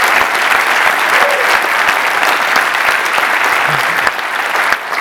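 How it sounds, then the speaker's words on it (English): Dense, loud applause for Eric and his team from a large conference audience at EO Nerve 2014, continuous energetic clapping filling the room, close and full, fading slightly near the end. "Hey, one more round of applause for Eric and his team."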